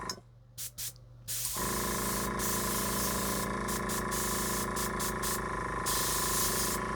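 A Harbor Freight airbrush on a budget compressor combo sprays at high pressure: a loud, steady, close hiss after a short, quieter start, with brief bursts early on and the compressor humming underneath.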